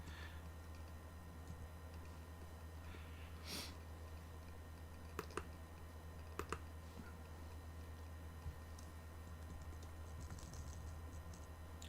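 Someone types on a computer keyboard, producing a few sparse, faint key clicks over a low electrical hum in a quiet room.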